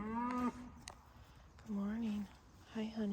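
Cows in a small farm herd of black and brown cattle with a bull, giving three drawn-out moos in a row, the first and last shorter, heard fairly close in an otherwise quiet setting.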